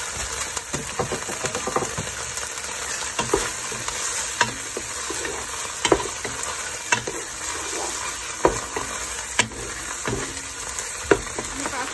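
Tuna pasta with mixed peppers sizzles in a pan while being stirred, a continuous frying hiss broken by frequent sharp scrapes and clinks of the utensil.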